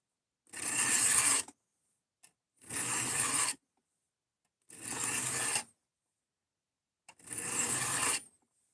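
A blade drawn across a cheap Harbor Freight sharpening block, four separate rasping strokes about a second each, separated by silence, close and clear with no talking.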